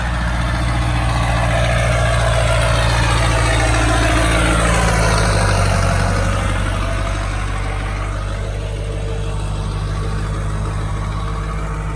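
A Duramax diesel pickup truck with piped exhaust idles steadily, a loud, close, continuous low rumble that holds even throughout, with no voices.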